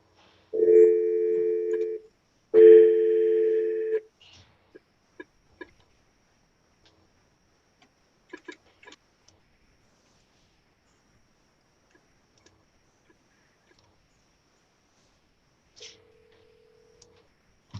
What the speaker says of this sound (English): Can you hear the phone ring?